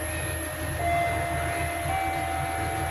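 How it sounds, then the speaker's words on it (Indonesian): The Argo Wilis passenger train bound for Surabaya passes at speed, a steady, loud rumble of wheels and carriages with a high-pitched metallic whine, no talking. "Bye bye kereta Argo Wilis"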